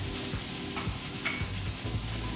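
Rice is tipped into a hot pan and stirred for fried rice, giving a continuous sizzle with soft scraping strokes of the spoon across the pan and no voices.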